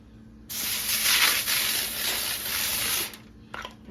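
Cooking spray hisses onto a spaghetti pizza pasta bake in one long burst of about two and a half seconds, followed by a shorter puff, close and clear with no voices.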